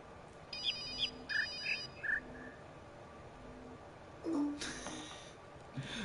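A ringing telephone in The Witness puzzle game gives short repeated electronic trills over a low background hum, followed by a brighter burst of tones near the end.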